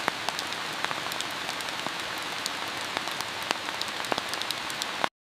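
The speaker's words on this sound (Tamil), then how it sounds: "அப்போ திடீர்னு மழை வர ஆரம்பிச்சது." Steady rain falls on a surface, soft and continuous, with scattered sharper drop ticks throughout and no voices.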